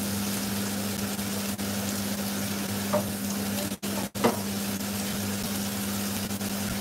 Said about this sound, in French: Je laisse dans la casserole et je vide l'eau.